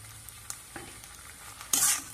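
Salted potato filling for atta aloo kachori stirred and fried in a pan, with soft scraping strokes and a steady low sizzle, then a brief louder hiss of frying near the end, no talk.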